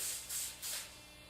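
Three quick hissing bursts of coconut oil cooking spray onto a waffle iron, close and fairly soft, each lasting a fraction of a second with brief gaps between.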